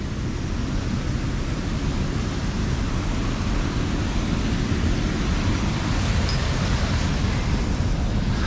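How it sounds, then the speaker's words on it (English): Steady, full broadband rush of a man-made waterfall pouring at an old woodland mill site where the wheel once stood, loud and continuous close to the microphone, with no voices over it. "Let's have a look at this waterfall."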